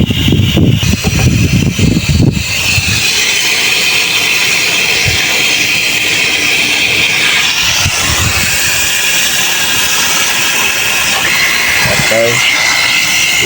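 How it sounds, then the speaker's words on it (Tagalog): A household water pump motor switching on automatically alongside a water heater, giving a steady, continuous mechanical hum and hiss throughout, with a few low knocks and thumps near the start. "Now the motor is again automatic on in 1 bar."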